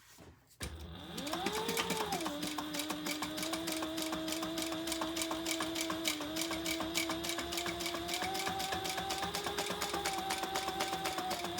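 A sewing machine starts up and runs a long top stitch along a pouch side panel, a steady rapid mechanical whirr with fine rhythmic clatter and a slight rise in pitch partway through, loud and close with no talk.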